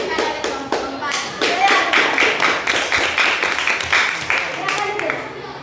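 A classroom audience claps in a lively burst of rapid, close handclaps that keeps going for several seconds, with voices mixed in.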